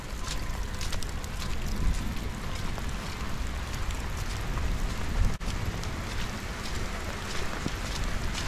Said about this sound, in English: Rain has definitely died down, which is nice.